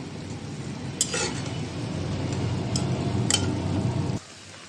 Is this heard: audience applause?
no